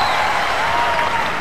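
Basketball arena crowd at a 2000 PBA All-Filipino Cup game between Alaska and Purefoods, a steady broad roar of applause and cheering after a made free throw, sustained and fairly loud throughout with no distinct voices.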